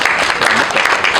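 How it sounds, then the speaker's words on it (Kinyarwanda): An audience at a concert applauds, and the clapping carries on as a steady, dense wash of many hands for the whole stretch. "tubakomere amashyi"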